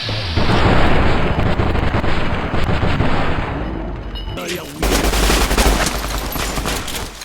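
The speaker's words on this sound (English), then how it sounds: "I'm just going to shoot his leg as much as I can" Gunfire from Fallout New Vegas roars loud and dense, with rapid repeated shots and booming blasts that fill the whole stretch, one sharp break midway before the barrage resumes.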